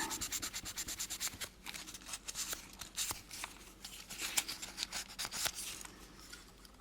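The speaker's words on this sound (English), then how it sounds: "And a little fine sandpaper here." Fine sandpaper rubbed back and forth along the edge of a skull-head ghost box build, giving a steady close scratchy rasp in quick repeated strokes, with no voices.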